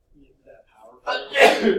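A single sharp sneeze bursts out near the mic right after a few soft murmured words, loud and breathy, ending in a brief exhale.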